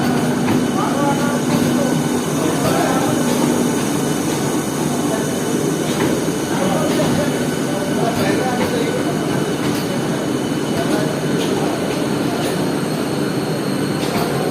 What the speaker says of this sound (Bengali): শিয়ালদা রেল স্টেশন থেকে মেট্রো ট্রেন বেরিয়ে যাচ্ছে আস্তে আস্তে